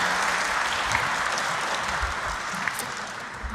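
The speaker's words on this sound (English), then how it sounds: "You can warmly applaud them," Audience applause for two speakers welcomed on stage at a scientific heritage meeting session, steady dense clapping throughout, fairly loud and sustained with no talk over it.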